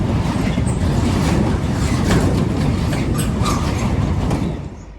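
Diesel locomotive 56165 rumbles steadily past a station on a diverted West Coast Main Line route in North Staffordshire, a loud, continuous drone with rail clatter that holds for most of the clip before fading near the end.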